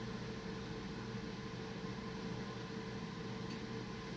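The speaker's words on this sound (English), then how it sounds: "That'll be my glorious white noise." A steady, faint low hum with broadband hiss runs unchanged throughout, like a white noise machine droning in a quiet room.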